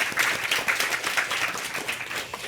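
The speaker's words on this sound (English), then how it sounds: "that's another round of applause" An audience gives a round of applause for a panel at a talk on wellness in informal learning spaces. Many hands clap in a steady, fairly loud, crackling wash with no talking over it.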